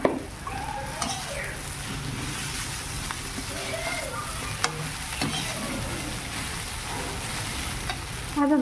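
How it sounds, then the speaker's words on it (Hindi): Poha being stirred and fried in a pan with salt and turmeric, a soft steady sizzle under scraping and clinking of a spoon against the pan, with a voice faintly heard. "अब इसमें मैं डालने जा रही हूँ पोहा को।"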